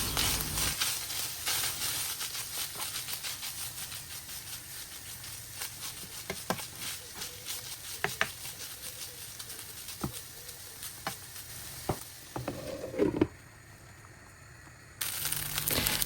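Beef filling seasoned with beef cube spice sizzling and crackling steadily in a pan for spring rolls and samosas, with scattered sharp clicks of stirring through the middle and a brief quieter stretch near the end.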